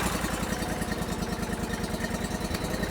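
A yard machine's small engine runs steadily after starting, giving a close, loud, rhythmic chugging idle with a fast, even beat and no talk over it.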